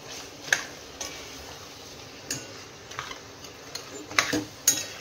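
Goat head mutton being turned through masala in a pot, with a handful of sharp metal scrapes and clinks from the spoon over a soft background hiss, spaced irregularly and close by.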